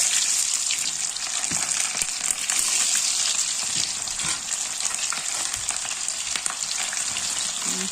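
Onions sizzling and frying steadily in a pan, a continuous close hiss with occasional stirring scrapes and pops, no voices.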